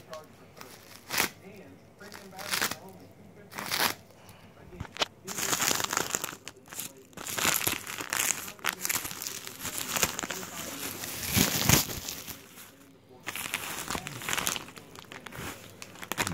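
A plastic bag from a quadcopter kit is crinkled and opened, crisp rustling bursts coming in irregular clusters, close and fairly loud, with brief pauses between handlings.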